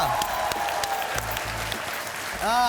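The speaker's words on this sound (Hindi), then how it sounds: "तालियां।" A television studio audience applauds steadily, a dense wash of clapping that fills the space, with a brief voice rising near the end.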